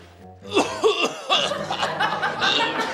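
A person forcing a few rough, exaggerated coughs to show how bad a cough has become, close and loud, breaking into laughter-like bursts in a casual indoor exchange.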